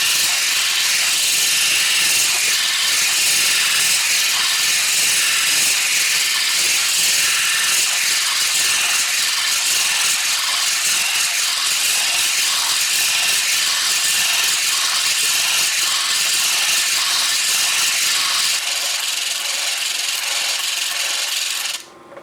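A stone cabochon is shaped on an All-U-Need flat lap, giving a steady, close, rasping wet-grinding hiss that runs unbroken for about twenty seconds and cuts off abruptly at the end. No one speaks.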